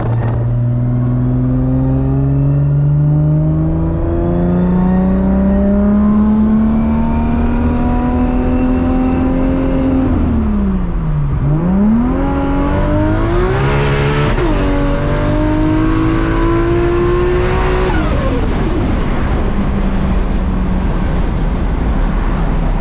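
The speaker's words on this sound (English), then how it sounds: "We got a little bit of tire spin there." A 1000HP Toyota Supra MKIV accelerates hard, its loud engine rising in pitch through the gears with a brief dip at a shift, then screaming higher as the tires spin on cold, damp pavement.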